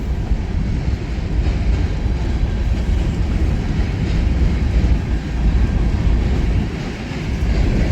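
Model freight cars, including hoppers, roll along a layout with a steady, close rumble and faint clicking from the track that carries on throughout, with no voices.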